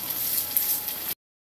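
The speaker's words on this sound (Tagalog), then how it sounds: "Parang pinry ko lang yung ating balon-balunan at giniling." Chicken gizzards and ground meat frying in a pan, a steady close sizzle that runs unbroken before cutting off abruptly.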